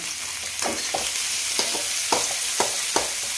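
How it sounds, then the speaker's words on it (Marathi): Chopped onion sautéing in a pan, a steady bright sizzle with a spatula scraping and stirring in irregular strokes, close and fairly loud with no talking. "आता हा कांदा मस्तपैकी परतून घेणार आहे"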